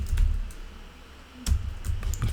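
Keyboard typing during a SwiftUI coding session: a few scattered soft key clicks, one cluster early and another burst after a short pause, close and fairly quiet over a low background hum.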